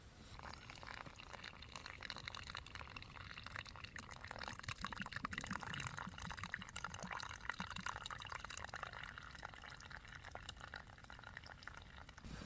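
A quiet, continuous pour of hot water, a soft trickling and gurgling stream at a wild campsite by Loch Einich, Scotland, that lasts throughout with no voices.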